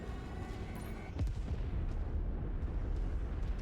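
Explosions from battling mechs in the video game Mechwarrior 5: Mercenaries: one heavy booming blast erupts about a third of the way in, over a continuous loud rumble of combat noise.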